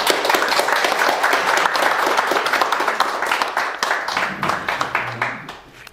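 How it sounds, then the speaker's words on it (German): Strong applause from a lecture audience in Paderborn welcoming a speaker, a dense sustained roar of many hands clapping close and loud for several seconds before thinning out near the end, with faint voices underneath. "ich darf jetzt ganz herzlich begrüßen unseren Zahid Khan mit einem kräftigen Applaus"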